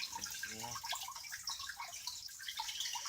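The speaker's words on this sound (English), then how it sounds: "The water just kind of pumps up through this hose." Water pumped up through a hose splashing into a small garden pond, a steady broadband trickle and splash running throughout, with a brief soft voice-like murmur near the start.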